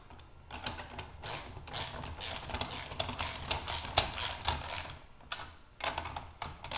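Bolts being tightened on an Aurora magnetic sweeper make a close, steady series of quick ratcheting clicks and metallic rattles with brief pauses, no talk.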